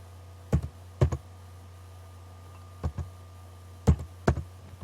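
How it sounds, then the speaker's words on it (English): Keys on a computer keyboard are pressed in short sparse clusters of a few clicks each, as a verification code is entered, over a quiet steady hum with no talking. "Type my code in here."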